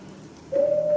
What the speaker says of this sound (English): 'Twas the owl that shrieked, the fatal bellman that gives the sternest good night.